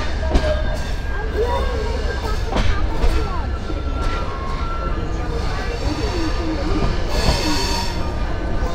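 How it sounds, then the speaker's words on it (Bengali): The Jamalpur Express passenger train passes near Dhaka Airport railway station, a loud, close rumble of rolling wheels with squeals and clanks, while people speak faintly nearby. "এই লোক নিয়ে কোন ট্রেন যাচ্ছে? জামালপুর এক্সপ্রেস।"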